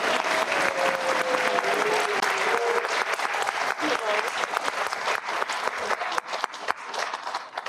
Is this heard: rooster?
no